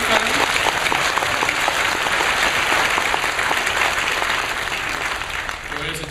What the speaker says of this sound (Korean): 정리 박수 한번 할까요?